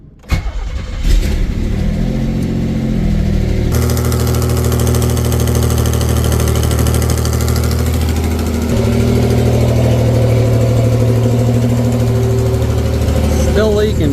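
A Pontiac Fiero GT with a leaking exhaust manifold cranks, starts and settles into a loud, steady idle close by, its rumble carrying a rough, ticking exhaust leak note, with a shift in engine pitch partway through.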